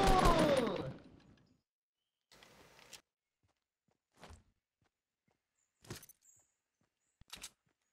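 Gunfire in the video game Fortnite: a loud burst opens, then short, sharp shots and thuds come in scattered pairs separated by silence.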